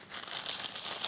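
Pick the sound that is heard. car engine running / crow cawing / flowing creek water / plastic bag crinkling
plastic bag crinkling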